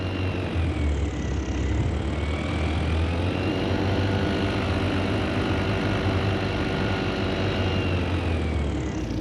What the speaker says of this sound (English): Killing the engine.